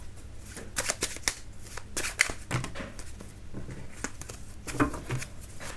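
Tarot cards being shuffled by hand, giving a run of quick riffling and slapping bursts with brief pauses, close and fairly quiet.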